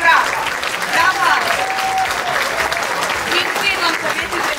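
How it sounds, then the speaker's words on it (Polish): A large audience claps loudly and continuously in a hall, a dense, sustained roar of hands, with some voices mixed into the crowd noise. "Ogromne brawa. Brawa."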